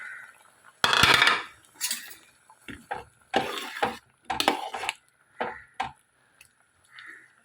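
Mango pieces and fish dropped into a boiling fish curry in a pot, heard as a run of clattering metal-pot and utensil knocks and scrapes in irregular bursts, fairly close, with no talking.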